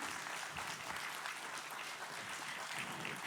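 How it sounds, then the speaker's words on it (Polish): Audience at an awards ceremony for the Tatra Brand applauds, a steady, even round of clapping heard from a moderate distance, fairly quiet and unbroken throughout. "Proszę o gromkie brawa za trud i pracę wszystkich stowarzyszeń."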